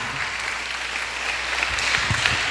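Light applause ripples through a church congregation at a sermon, a thin, steady patter of hands that grows a little louder in its second half.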